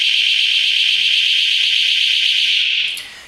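A door-triggered FirstWall security alarm sounds close and loud, a piercing steady electronic tone that holds for nearly three seconds before cutting off and fading.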